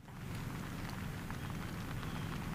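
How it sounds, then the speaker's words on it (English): Steady rain falls on a golf course, a dense, even hiss with no other sounds breaking through. "Rain coming down again."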